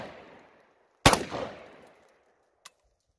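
A single close AR rifle shot cracks sharply and echoes away outdoors, followed by a small metallic click moments later.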